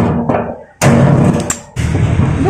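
Sharp metal strikes of a hammer punching holes into a stuck car gas tank, a few loud impacts separated by short pauses with clanging ring.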